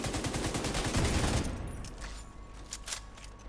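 Heavy machine gun fire from a heavy gunner build in the video game Division 2 rattles as a rapid, dense burst for about a second and a half, then fades into scattered lighter shots and echoes.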